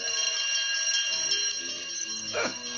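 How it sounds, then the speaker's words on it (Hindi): An alarm bell rings continuously in a Tom and Jerry cartoon, a bright sustained metallic ringing with a brief sliding sound effect near the end. "ये खतरे की घंटी तभी बजानी चाहिए जब कुछ अनहोनी बात हो।"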